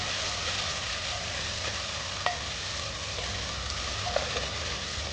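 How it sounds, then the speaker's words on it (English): Chopped onions frying in a pan with whole spices such as cinnamon and bay leaves for a mutton curry, giving a steady close sizzle with a couple of faint clicks of stirring. "we're now adding some chopped onions. We'll fry these onions for some time."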